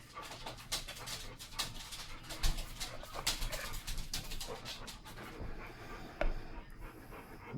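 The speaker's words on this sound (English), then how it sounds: "And there comes my stupid dog." A dog pants close by in quick, steady breaths with occasional soft whimpers, and no one speaks.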